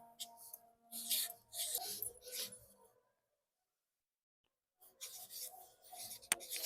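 A pen writes on paper in close, scratchy bursts of strokes, stops for a couple of seconds of silence, then resumes with more quick scribbling.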